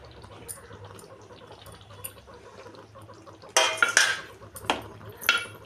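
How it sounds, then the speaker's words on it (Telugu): A spoon scrapes and clanks against a pan while masala-stuffed brinjal is mixed with fresh coriander, starting with faint quiet clinks and building to several loud close metallic scrapes near the end. "కొత్తిమీర వేసుకొని బాగా కలుపుకోవాలి."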